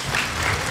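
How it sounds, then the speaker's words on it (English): Steady applause from a San Diego Comic-Con 2015 panel audience, many hands clapping continuously at a moderate, even level. "look at everybody clapping for not killing people"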